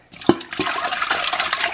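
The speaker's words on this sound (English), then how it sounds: "I'm about to flush 30 giant Orbeez water balls down the toilet" A toilet flushes thirty giant Orbeez water balls, with a close sharp clunk, then a rushing, gurgling surge of water that fills the rest of the clip at a steady level, with no voices.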